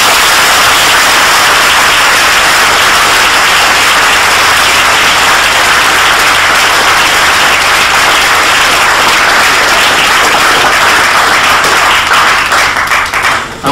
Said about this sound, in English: simply to clap our hands in thanks